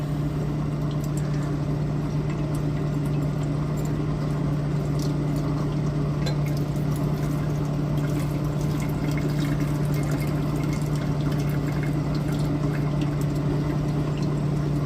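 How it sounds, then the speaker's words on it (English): Liquid is poured out steadily during a chemical refining of pinless CPUs, a continuous watery splashing and trickling with a constant low hum beneath and no talking. "pour this out."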